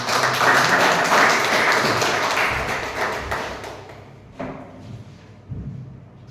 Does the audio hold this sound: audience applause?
yes